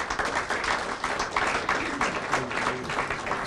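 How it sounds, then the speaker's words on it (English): Audience applause at a public meeting on transit-oriented development, a steady wash of clapping from a room of people, fairly loud and continuous with some faint voices mixed in. "Give him a round of applause"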